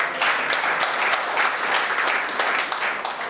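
Listeners at a Hindi poetry gathering clap together in a full, continuous burst of applause that holds steady from start to finish.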